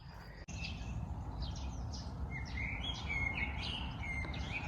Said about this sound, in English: I don't know if you can hear the blackbird.